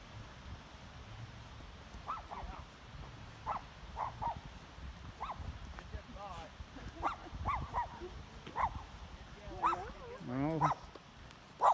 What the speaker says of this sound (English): you have to watch out for those space dogs that might get you out here in the ice giants